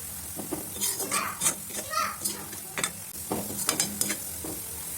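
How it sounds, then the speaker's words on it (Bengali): Chopped onions frying in hot refined oil for biryani, a steady sizzle with intermittent stirring scrapes and pan clinks, while children's voices chatter in the background. "রিফাইন অয়েল গরম হচ্ছে, এখন পেঁয়াজের কুচি কটা দিয়ে দিতেছি"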